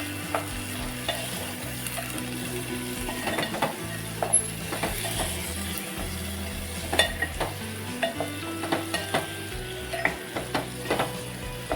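Boiled grains are stirred into a sizzling Maharashtrian usal in a pan, with a steady frying hiss under scraping spoon strokes and occasional sharper clicks, close by and without speech.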